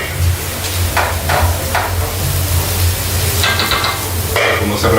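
Garlic and chopped red onion sizzle and crackle steadily in a frying pan, a loud, close hiss with bursts of spattering and a few stirring scrapes.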